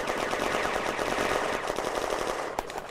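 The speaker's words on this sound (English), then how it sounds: "Machine gun nest." Sustained machine-gun fire from a 1940 battle at Villers Bocage, a loud, dense, unbroken stream of rapid shots with a slight echo, carrying on for the whole stretch.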